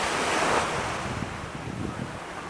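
Surf rolls and washes steadily onto the Arabian Sea shore in Kerala, a continuous broad roar of waves mixed with wind buffeting the microphone, with no voices.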